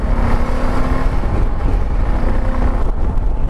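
A Yamaha Tenere 660 motorcycle engine runs close by, a dense, rough low rumble with a steady throb and some wind buffeting, no speech over it.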